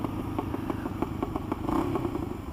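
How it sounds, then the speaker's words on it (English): Motorcycle engine running with irregular popping backfires, a series of sharp cracks and sputters over a steady rumble, close and fairly loud throughout. "this backfire is interesting"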